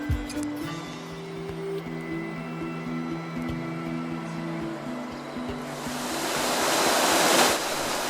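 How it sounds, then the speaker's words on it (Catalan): Small but powerful mountain waterfalls along an easy trail toward Pic de Certascan, water rushing down hard as a steady broadband roar over a low droning hum, swelling louder and closer in the last few seconds. "Anem pujant contemplant aquests petits salts d'aigua, però magnífics, és a dir, l'aigua baixa amb força."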